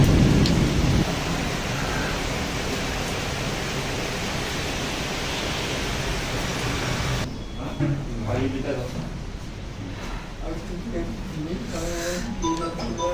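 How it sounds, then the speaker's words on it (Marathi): A dense, roaring downpour of heavy rain fills the air outside a hospital in Chandrapur, with deep thunder rolling beneath; the rain thins slightly and gets patchier toward the end. "सध्या चंद्रपूरमध्ये मुसळधार पाऊस चालू आहे"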